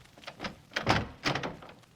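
Radio drama door effect: a handle rattles and the door is tried, then opens with a couple of soft wooden thunks and knocks, close and fairly quiet, no voices.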